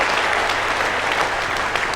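An audience at a Tamil pattimandram debate stage bursts into steady, dense applause, many hands clapping together at an even volume throughout.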